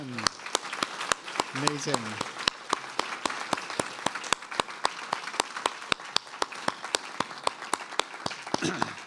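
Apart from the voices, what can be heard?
audience applause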